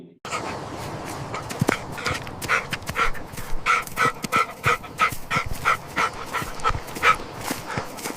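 A dog pants and makes small whimpering yips over a continuous noisy background, with repeated short bursts throughout.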